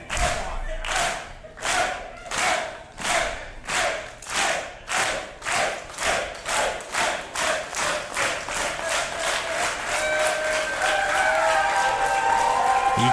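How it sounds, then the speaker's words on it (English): A wrestling show crowd at a community hall claps and stomps in a rhythmic chant of steady loud pulses, then swells into sustained cheering and applause. "The Kitsilano crowd here at St. James Community Square fully in the corner of Inferno."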